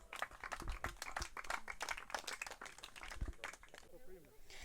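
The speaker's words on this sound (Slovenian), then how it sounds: "Čestitamo še enkrat aplavz." A small group claps at a trail running race on the Ravne course, irregular and fairly close, with voices talking over the claps before they fade out.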